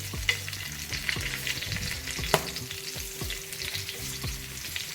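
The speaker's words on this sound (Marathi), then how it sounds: "त्या मिरच्या पुन्हा एकदा आपण पलटी करणार आहोत" Stuffed green chillies frying in a pan and being flipped, a continuous close sizzle broken by repeated clinks and scrapes of the spatula against the pan.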